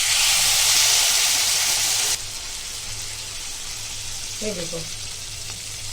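Milk poured into hot butter for halwa gives a loud, broad sizzling hiss that cuts off sharply after about two seconds. A quieter steady simmering follows, with a short spoken remark near the end.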